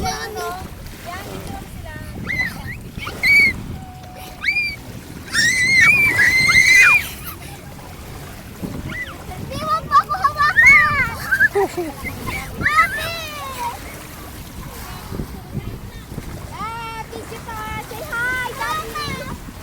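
Splashing steps through choppy, wavy sea water, close and continuous, mixed with children shouting and screaming and people talking throughout.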